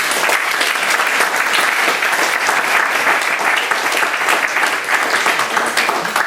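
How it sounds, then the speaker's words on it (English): Loud, continuous clapping from an audience thanking speakers at a talk on Muslim start-ups, thick and even across the whole stretch with no voices breaking through. "can we have a round of applause for our speakers, please?"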